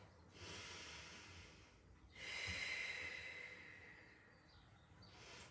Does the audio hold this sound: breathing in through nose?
yes